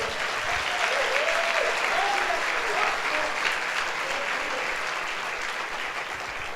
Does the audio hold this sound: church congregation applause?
yes